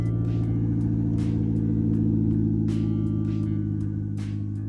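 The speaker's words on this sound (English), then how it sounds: "Definitely a massive exhaust leak." A truck engine with a massive exhaust leak idles close by, a loud steady rumble with sharp ticking puffs popping through at an irregular rhythm.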